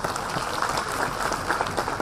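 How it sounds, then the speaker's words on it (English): An audience at a live seminar for medical aspirants claps in sustained, even applause, a dense wash of many hands with no voices over it. "We'll take this clap shared with Mr. Miraj, his grandfather and medical mentor, all three"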